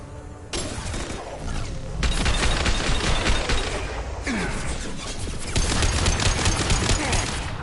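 Rapid rifle fire bursts out in repeated volleys during a Mass Effect 2 firefight, loud and dense with short gaps between stretches of shooting.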